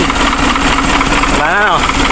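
Isuzu Elf 4HL1 truck diesel engine cranking over and catching into a steady idle after a starter drive repair, loud and close with a continuous rumble, a short rising-falling whine near the end.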